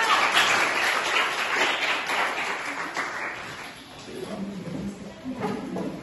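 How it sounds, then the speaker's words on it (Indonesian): Classroom applause for a student group after their presentation, a scattered run of clapping from students that fades, mixed with chatter and a few taps and voices. "tepuk tangan untuk kelompok 3"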